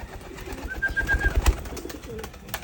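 Pigeons cooing near a rooftop loft, a few soft low coos close by, with a brief higher bird call and light rustling.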